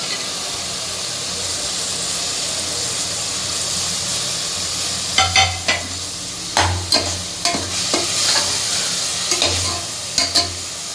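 Tomatoes and pepper fry in a pan with a constant loud sizzling hiss, then sharper crackles and stirring knocks join in partway through, close up and with no voices.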